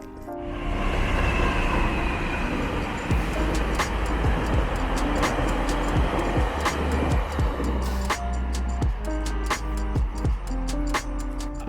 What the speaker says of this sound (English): while the trains can be loud, of course electric trains will be quieter than the current diesel trains